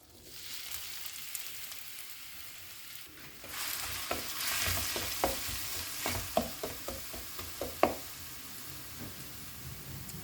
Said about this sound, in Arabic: غادي نضيف لهاد البصله